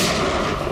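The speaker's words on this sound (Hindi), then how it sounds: "एक काम करो पंकज, मुझे कवर करो और फायरिंग करते रहना।" Gunfire in a Hindi TV crime drama, CID: a loud, dense burst of rapid shots packed into under a second, close and continuous with no voices.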